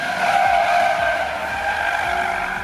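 A Mercedes-AMG C43 coupe with a V6 engine and all-wheel drive laps a race track, its engine droning steadily and loudly for a few seconds with a squealing, skidding tyre edge through the run.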